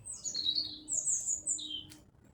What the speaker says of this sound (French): On entend cet oiseau.